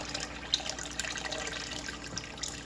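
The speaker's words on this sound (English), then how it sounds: "I'm going to add a little bit of hot water to this" Hot water poured into a canning pot around jars of eggplant caponata: a steady, soft splashing trickle with faint drips, close and quiet, with no talk.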